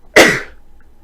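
A single sharp sneeze bursts out close by, then trails off quickly into quiet.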